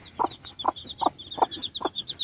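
Chicks three to four days old peep in a steady series of high chirps, with louder hen-like clucks pulsing about twice a second, close and alone.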